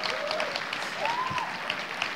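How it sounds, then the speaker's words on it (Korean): Applause from a seated audience at a Korean-language talk, a fairly quiet, even patter of many hands that stays constant throughout, with a few faint tonal sounds in the background. "박수 한 번만 주세요."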